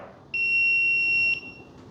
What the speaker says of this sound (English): Oh, there's that 1 minute beep.